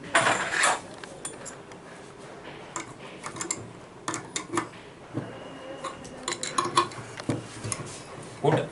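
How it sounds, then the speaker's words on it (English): Spanners tightening screws on an antenna trainer's transmitter and receiver assembly: scattered light metallic clicks, taps and scrapes at close range, irregular and fairly faint, with no talking. "Tight these screws with spanners"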